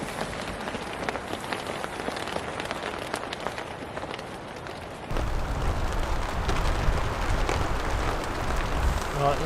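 Heavy rain storm at a tent campsite, dense hiss of drops pattering on surfaces, steady and close, becoming louder and heavier with a deeper drumming partway through.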